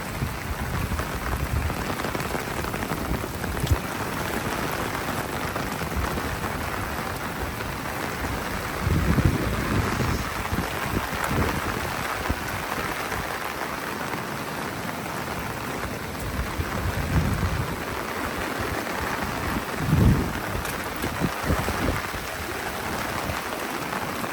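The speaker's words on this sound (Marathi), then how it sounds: "पाऊस काय थांबायचं नाव घेत नाही अजून" Heavy monsoon rain pours steadily in a dense, constant hiss, with a few heavier surges along the way, during flooding in the Konkan.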